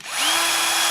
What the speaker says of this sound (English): So I'm pre-drilling.